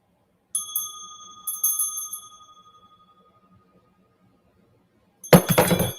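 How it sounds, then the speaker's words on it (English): A metal hand bell clangs as it is dropped, giving bright ringing strikes that fade away, then after a pause a louder, harsher clattering jangle as it hits again. "Ooh, I dropped my bell."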